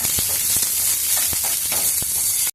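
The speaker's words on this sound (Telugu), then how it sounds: "ఆయిల్ వేసుకొని కొద్దిసేపు వేయించుకున్నాము" Ingredients frying in oil in a pan for a chukka kura dish, a loud, constant hissing sizzle with several sharp ladle taps and stirring knocks, no talk.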